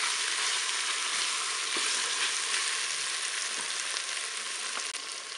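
Chicken thighs coated in curry brown in a Cookeo multicooker, with a steady close sizzle and crackle running throughout and no voices.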